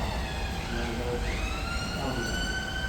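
A police siren wails at a distance, its rising and falling tone sweeping steadily beneath a low background hum.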